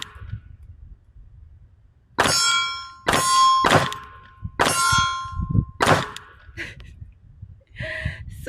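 A Glock 47 in 9mm fires at steel targets, and each hit rings out as a loud, sharp clang. About six rings come at irregular intervals over quiet outdoor background, with a faint voice near the end.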